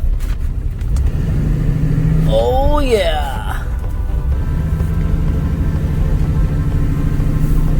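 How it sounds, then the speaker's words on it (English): A 1976 Corvette Stingray cruises along the road, its engine a steady, loud low drone throughout, with a short spoken remark over it midway. "Just cruising on the Corvette 1976"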